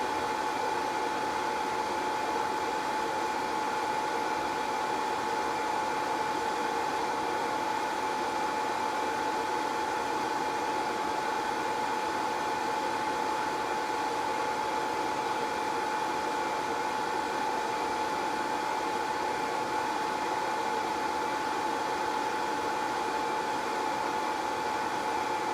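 A rework machine heats the GPU chip on a MacBook Pro board to reflow its solder balls, giving a steady, even hot-air hiss with a faint whine that holds unchanged throughout, with no voices.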